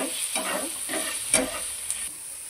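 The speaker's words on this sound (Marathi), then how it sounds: "त्यामध्ये आपण चवीप्रमाणे मीठ टाकून घेणार आहोत आणि ते परतून घेणार आहोत।" Chicken sautéed in a pan with salt, a soft steady sizzle and hiss with several quick stirring scrapes at regular intervals, close and fairly quiet, no voices.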